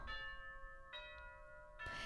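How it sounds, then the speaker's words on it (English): A doorbell chime plays three clear, ringing tones in a descending sequence, somewhat distant and quiet, with no talking. "That's our doorbell."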